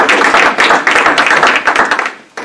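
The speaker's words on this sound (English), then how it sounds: "another big round of applause for him" Brief applause for a speaker, Dr. Chris McCluskey, at a speaker series event, a small group clapping in close, uneven bursts that fade out toward the end.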